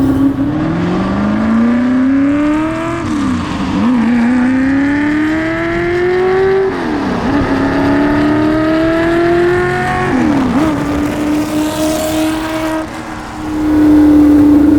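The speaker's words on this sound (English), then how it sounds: "I'm not going up enough in the RPMs for you. I'll go to 6 grand at least." Shelby GT350 V8 revving hard while driving through canyon roads, loud and close, with rising and falling engine pitch through repeated gear pulls across the whole stretch, no talking.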